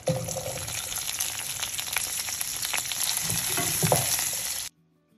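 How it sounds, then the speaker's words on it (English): Green chilies, curry leaves and onions drop into hot oil for black pepper chicken, a loud, dense close sizzle with some stirring that runs steadily and then cuts off abruptly to silence. "Now the oil is warmed up, so I'm adding green chilies and curry leaves,"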